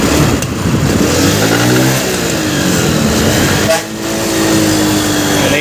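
A TVS XL moped engine runs steadily during a mileage test, a continuous mid-pitched drone with a brief dip in revs midway before it settles back to a constant hum.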